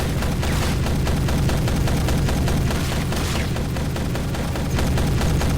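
Sustained gunfire from a film gunfight fills the scene, dense rapid shots layered into a loud, continuous barrage with booming impacts throughout.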